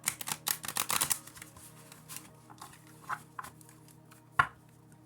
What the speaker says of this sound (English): this is a huge deck, so it's very hard to shuffle